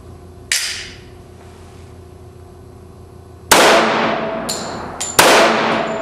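Three sharp, loud, unsuppressed gunshots with no silencer at an outdoor range. The first stands alone, and the last two come close together; each ends in a long ringing decay.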